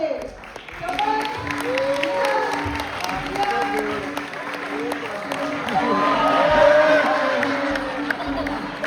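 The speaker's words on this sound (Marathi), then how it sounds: "जोरदार टाळ्या होते" At a children's fashion show for a Gudhi Padwa celebration by Maharashtra Mandal Norway in Oslo, the audience gives a steady wash of applause with some cheering, rising toward the end, under a host speaking over it.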